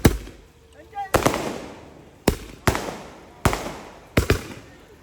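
A series of sharp, loud Eid-eve firework bangs, about five blasts spaced roughly a second apart, each trailing into a crackling, echoing decay.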